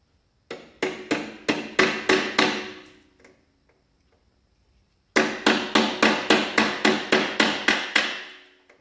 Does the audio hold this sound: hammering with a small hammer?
yes